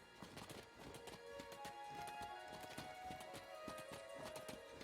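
Rapid footsteps in Star Wars Jedi: Fallen Order pound in a steady galloping clip-clop cadence, close and continuous across the clip over a busy game soundscape with a faint tonal layer.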